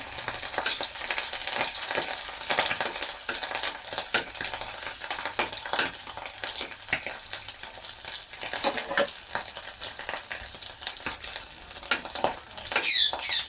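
Hilsa fish tail pieces frying in a pan with dried red chillies, a steady crackling sizzle with spatters and stirring, continuous and close.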